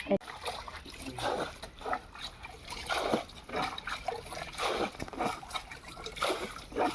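Water bailed out of a boat in repeated scooped splashes, roughly once a second, close by with a dripping trickle between scoops.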